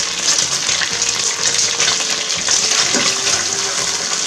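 Onions dropped into hot fat in a pan for a home-style Corsican chicken with peppers and potatoes, giving a loud, steady broadband sizzle and crackle that runs unbroken throughout.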